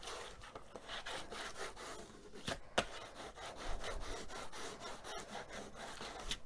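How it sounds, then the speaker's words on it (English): Craft paper being burnished along pre-marked fold lines, a continuous dry rubbing and scraping with repeated strokes and one sharper snap partway through, close and fairly quiet with no talking. "we're going to just give that a good old burnish"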